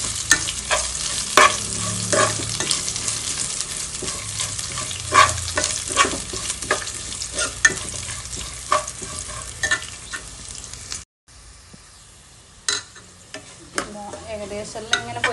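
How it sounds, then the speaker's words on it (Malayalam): Grated coconut and garlic frying in a pan, a busy steady sizzle with frequent sharp scrapes and clinks of stirring, then a brief gap before quieter sizzling and a few more stirs. "ഇത് കുറച്ച് നന്നായിട്ട് പൊരിഞ്ഞ് വരണം കേട്ടോ"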